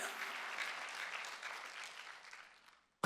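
Church congregation at a Wednesday worship service applauding: a dense wash of many hands clapping, moderately loud and steady, tapering off to silence before a brief sharp sound at the very end.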